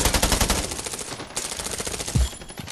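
Rapid automatic gunfire from the Scarfall 2.0 video game rattles in fast bursts, loud and close, with short pauses between volleys and no voices.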